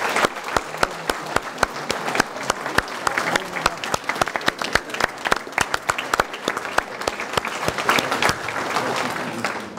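An audience applauds warmly at a public meeting in Toulouse on 12 October 2024, with dense, sustained clapping from a crowd throughout, close and steady, with no talk over it.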